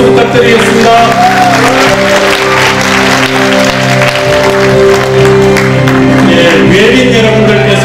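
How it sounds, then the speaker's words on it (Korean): Big audience applause at a Bareunmirae Party leadership convention, a dense, sustained wash of clapping with a few shouts and music running beneath it throughout. "김중로 의원님 큰 박수 부탁드리겠습니다."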